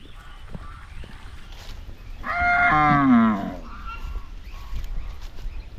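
A single loud, drawn-out cow moo rises and falls over quiet outdoor background noise, with no talking.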